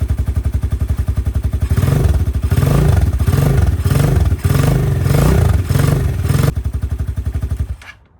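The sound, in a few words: motorcycle engine idling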